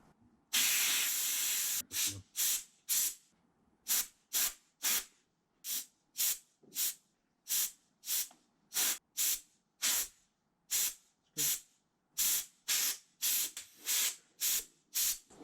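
Cleaner is squirted from a spray can while a Vespa carburetor is cleaned. After one long opening hiss, about two dozen short sharp bursts follow in a fairly even rhythm, close by and clear against near silence.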